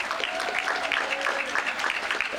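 Audience applause at a July 4th naturalization ceremony at Monticello, honoring the Albemarle chapter of the Daughters of the American Revolution; steady, dense clapping from a crowd, with faint voices mixed in.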